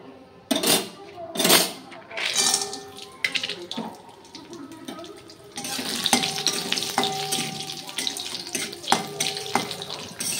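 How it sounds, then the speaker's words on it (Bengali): Papad (poppadoms) fry in hot oil in a home kitchen with loud bubbling, hissing bursts that come in uneven surges and then settle into a continuous crackle. A voice talks intermittently over it. "আর না কয়েকটা পাঁপড় ভাজবো, এই দেখো আর কয়েকটা ভাজবো।"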